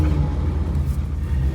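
A 1967 Chrysler Imperial engine drones with a low rumble and a steady whirring power-steering whine from low fluid, close and continuous, with no voices.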